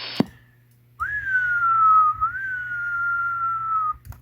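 A single sustained whistle sent through a CB radio microphone on an RCI 2950DX transceiver with an RM Italy KL200P linear amplifier, one steady tone held for about three seconds with a slight pitch step midway, clear and alone over a low hum.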